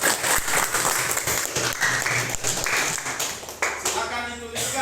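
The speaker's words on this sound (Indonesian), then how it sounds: "mari kita resmikan keyakinan kelas ini dengan memberikan aplaus untuk kita" A classroom group breaks into applause, dense steady clapping from many hands at close range that carries for several seconds before thinning out near the end.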